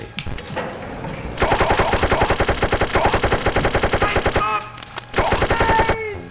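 Rapid sustained machine gun fire from a Wolfenstein video game, loud dense bursts of shots with a brief pause before a final burst, no voices.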